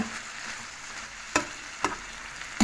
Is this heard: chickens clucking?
no